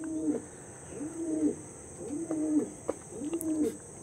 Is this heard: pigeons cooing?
yes